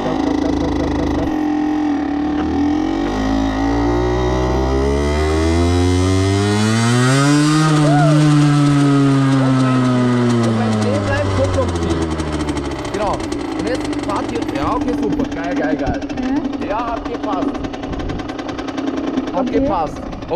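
A moped engine revs as the rider opens the throttle, its pitch rising steadily, peaking, then sliding back down to a rough, uneven idle. The engine is close and loud throughout.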